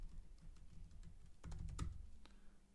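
Typing on a computer keyboard, with a brief burst of soft key clicks near the middle over low room hum, fairly faint and close.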